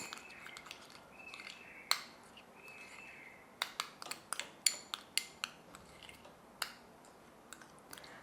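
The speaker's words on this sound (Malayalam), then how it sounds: "കുറച്ച് തേനും കൂടി ഒഴിച്ചു കൊടുത്തു ഇനി അതെല്ലാം കൂടെ നല്ല രീതിയിലൊന്ന് മിക്സ് ചെയ്തു" Curd and honey stirred together in a bowl for a homemade face pack, a spoon knocking the bowl in sharp, irregular clinks and taps, several quick strikes close together, with no talking.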